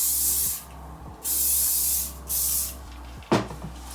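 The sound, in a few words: hairspray sprayed on a hair unit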